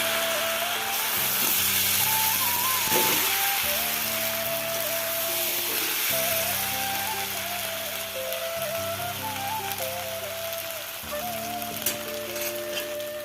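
Sabudana khichuri frying in a pan with a steady sizzle and crackle, the sound of ingredients tossed in and stirred across it and some clatter from the utensil, with no voices.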